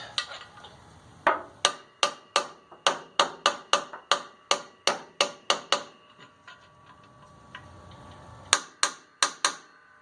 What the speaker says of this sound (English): I'll go get a little hammer to give that a tap up